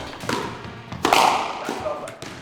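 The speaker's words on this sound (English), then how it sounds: "So here we're doing 2 drives and then a drop shot" Squash ball struck in a drill of two drives and a drop shot on a court, sharp echoing thuds of racket and ball against the wall at irregular intervals, the middle hit loudest and most resonant.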